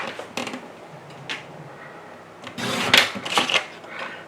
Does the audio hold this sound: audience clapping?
no